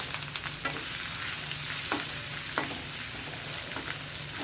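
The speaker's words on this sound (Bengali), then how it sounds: "এই বেটে রাখা মশলাগুলো দেবো কিন্তু গরম তেলে দিলে খুব কষ্ট হয়" Ground spice paste sizzles in hot oil in a pan for a chicken roast, a dense steady crackle up close with occasional scrapes of a spoon stirring through it.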